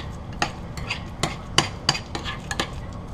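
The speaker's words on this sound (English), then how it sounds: "Stir this a little more, see how it's doing." A utensil scraping and clinking in a pan of Beyond Meat burger mixture, sparse, irregular knocks at close range over a soft background hiss.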